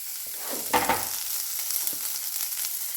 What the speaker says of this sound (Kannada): ಈಗ ಅವನ ಫ್ರೈ ಆಗಬೇಕು ಒಂದು ನಿಮಿಷ ಫ್ರೈ ಆದರೆ ಸಾಕು